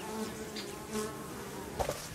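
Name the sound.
wasps buzzing around beehives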